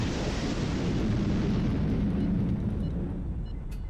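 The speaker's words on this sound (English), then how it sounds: "Cruise missiles away." A dense, continuous roaring rush of cruise missiles launching in the naval strategy video game HighFleet, loud and steady throughout before easing slightly at the end.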